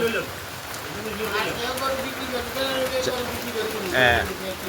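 Heavy rain falls over a flooded village in Feni, with cattle standing in floodwater; a steady rain patter runs beneath someone talking throughout.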